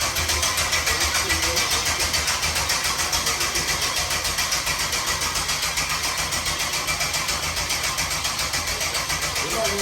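A freshly built LS 6.0 408 stroker V8 fires up for the first time and runs steadily, a loud, close, broadband engine roar that holds throughout with a slight pulsing rhythm.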